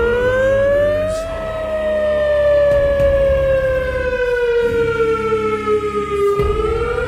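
A WS2000R siren wails loudly and up close, its rich, harmonic tone swooping slowly up and down in long sweeps with a low mechanical rumble beneath.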